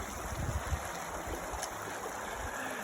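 River water rushing steadily at a trail crossing on the Colorado Trail in the mountains, a continuous moderate wash of flow with a few faint splashes and no voices.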